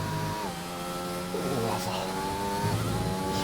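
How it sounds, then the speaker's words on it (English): Race car engine roaring in a racing video game at Silverstone, a steady drone with shifting pitch that holds throughout, with a voice talking over it. "You could hear the engine roaring."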